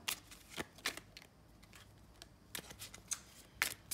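Tarot cards are shuffled and drawn by hand in a quiet room, giving faint, crisp bursts of riffling and sliding paper that come in irregular short flurries, with no talk.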